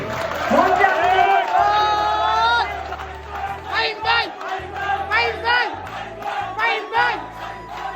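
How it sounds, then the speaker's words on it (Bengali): A crowd of fans roars, claps and chants slogans as a guest climbs onto a stage in Comilla, with loud shouting voices followed by rhythmic, pulsing chants. "করতালির মাধ্যমে এবং স্লোগানের মাধ্যমে ফাইন ব্যাকে যে স্টেজে ওঠার সময় সবাই ভক্তরা কিভাবে গর্জে উঠেছে"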